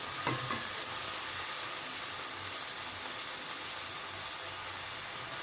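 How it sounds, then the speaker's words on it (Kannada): Soaked moong dal frying in a pan for a North Karnataka style dill leaf dish, a steady close sizzle with a few stirring scrapes near the start and no talking. "ಹೆಸರುಬೇಳೆ ಹಾಕಿ ಸ್ವಲ್ಪ ಹುರ್ಕೋಬೇಕಾಗುತ್ತೆ, ಸ್ವಲ್ಪ ಫ್ರೈ ಮಾಡ್ಕೋಬೇಕಾಗುತ್ತೆ."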